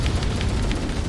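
A frag grenade explodes in Halo CE co-op on the Library level, a sustained heavy rumbling blast with rolling low-end roar filling the whole moment at steady loudness.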